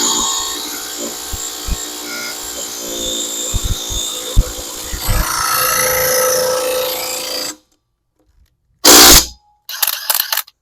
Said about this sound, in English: let's see if we can pop these lug nuts off